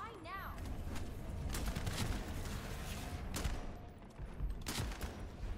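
Gunfire from a looter-shooter video game, The First Descendant, played on PC or console: dense, sustained bursts of shots with sharp transient spikes through the whole stretch, fairly loud and continuous, mixed with game effects.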